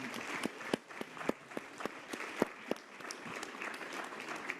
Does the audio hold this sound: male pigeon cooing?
no